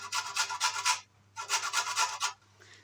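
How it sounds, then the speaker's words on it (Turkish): An orange is rubbed over the fine side of a grater in two quick bursts of rhythmic rasping strokes, close and clear with a short pause between them. "Şimdi bir adet portakalımı ince yani rendenin ince bölümünde güzelce rendeliyorum."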